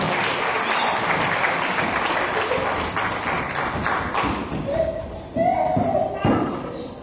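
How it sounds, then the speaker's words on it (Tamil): A church congregation claps in praise during a worship service, a loud steady wash of applause with a few sharper thuds and a voice speaking over it. "ஒரு பலத்த கைகளை தட்ட ஒரு கர்த்தருக்கு நன்றி"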